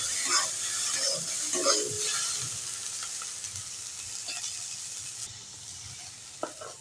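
Tomato and a few raisins frying briefly with vegetables in a pan, a steady soft sizzle broken by occasional stirring scrapes and light clinks, close and moderately quiet with no talking.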